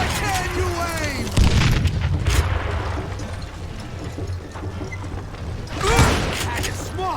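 Gunfire and booming blasts in a Call of Juarez Gunslinger shootout, with loud bursts around the one-and-a-half, two-and-a-half and six-second marks over a steady rumbling game soundscape, while voices shout.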